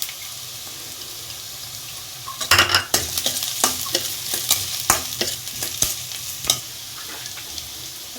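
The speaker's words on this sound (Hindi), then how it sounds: "अब बारीक कटा हुआ अदरक डाल रही हूँ।" Finely chopped ginger with onions and green chillies in a hot pan: a faint hiss, then a sudden loud burst of sizzling as the ginger goes in, followed by repeated scraping stirs against the pan, up close; no talking.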